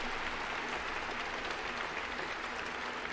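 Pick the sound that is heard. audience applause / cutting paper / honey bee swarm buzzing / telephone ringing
audience applause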